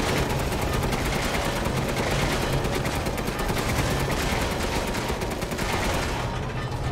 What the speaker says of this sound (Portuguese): Disparar a metralhadora.